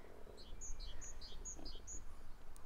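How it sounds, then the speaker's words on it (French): Birds singing outdoors on a mild spring day, several short high chirps repeating at a steady pace, faint and distant over soft low background noise. "les oiseaux, écoutez."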